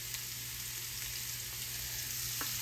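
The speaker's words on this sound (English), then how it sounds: "Get them sauteing off here." Red onions sautéing in a pan, a steady crackling sizzle with an even hiss and a faint electrical hum underneath, close up with no talking.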